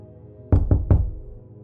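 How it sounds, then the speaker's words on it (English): Three soft knocks on a door land in quick, even succession against a quiet room, each a short muffled thud with nothing else heard. "3 soft knocks."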